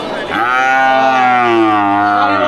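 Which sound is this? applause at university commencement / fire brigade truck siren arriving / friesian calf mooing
friesian calf mooing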